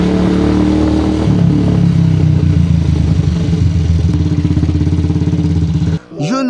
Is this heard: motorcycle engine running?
yes